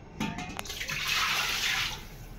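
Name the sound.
raw chicken being washed in water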